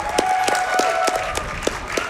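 An audience at the Awesome Games Done Quick 2026 speedrun marathon claps in scattered, steady applause over sustained music tones.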